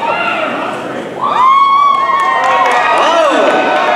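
A cheer squad in the crowd at an anime masquerade awards show in Los Angeles, loud screaming and shouting voices rising and falling, with scattered clapping and crowd noise swelling after a quieter start.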